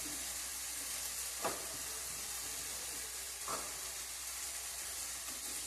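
Cumin and turmeric frying in a pan for egg bhurji give a quiet, continuous sizzle, with two brief stirring clicks standing out.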